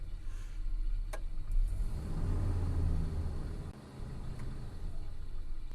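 A car engine idles steadily with a low, even rumble, a brief sharp tick near the start and a short dip in the drone toward the end.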